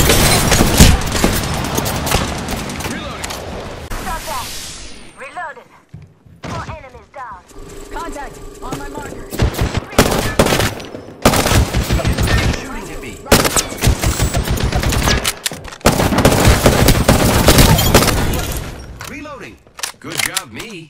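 Rapid automatic gunfire and repeated shots in a squad-based shooter video game, loud and dense for most of the stretch with brief lulls, while a player talks over the action.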